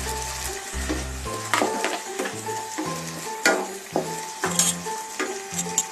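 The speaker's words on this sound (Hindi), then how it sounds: "टोमेटो प्यूरी थोड़ी देर भूनने के बाद इसमें सब्जियां ऐड कर देते हैं।" Vegetables being stirred and fried in tomato puree for an Indian-style masala pasta, with close sizzling and repeated scraping stirs of a spoon against the pan, heard over steady background music.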